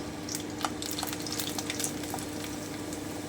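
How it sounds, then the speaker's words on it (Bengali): Garlic fries in hot oil over a lowered flame, a continuous close sizzle with scattered sharp crackles and pops, alone without speech. "এবারে আমি রসুনটা দিয়ে দিচ্ছি আমি খুব সামান্য একটু ভেজে নিচ্ছি"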